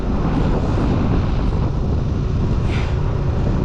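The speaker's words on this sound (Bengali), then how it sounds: "প্রচণ্ড ঝোড়ো হাওয়া, ঠান্ডা" Loud, relentless stormy wind in the cold during snowfall roars and buffets the microphone, a deep continuous rumble without any pause.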